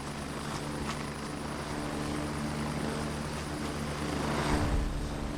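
Helicopter arriving in the tactical shooter video game Gray Zone Warfare, a steady close rotor thump and turbine drone that grows slightly louder toward the end.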